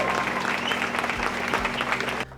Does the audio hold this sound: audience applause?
yes